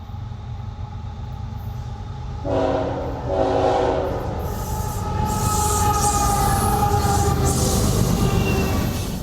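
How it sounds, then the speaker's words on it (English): A CSX northbound intermodal freight train on the Henderson Subdivision at Mortons Gap, Kentucky, rolls past loudly with a continuous rumble, and a clear horn sounds in two blasts partway through. "CSX Io26 northbound on the CSX Henderson Subdivision."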